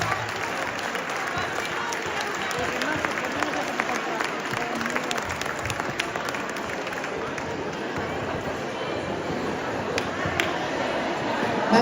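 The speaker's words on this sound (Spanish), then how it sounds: "Un fuerte aplauso para Marcos." Audience applause at a costume contest prize ceremony during the Entroido carnival in O Grove, a dense, steady clapping from a crowd that holds for about twelve seconds with light background murmur.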